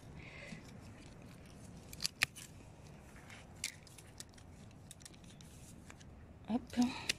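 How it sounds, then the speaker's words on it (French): Pruning shears snipping dead wood from a garden plant in autumn, a few sharp crisp clicks and snaps scattered over a quiet background, with faint rustling and a voice speaking lightly in between. "on le coupe aussi, cette branche-là"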